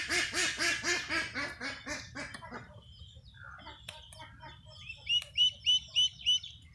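Farm ducks awaiting duck plague vaccination quack loudly and rhythmically in a fast run of repeated calls, then a short pause and a second burst of sharper quacks over a constant low background hum.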